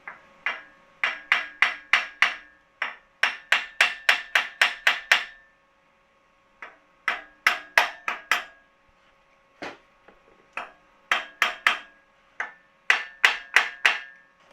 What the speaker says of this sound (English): And if you have a hammer, just a light tap.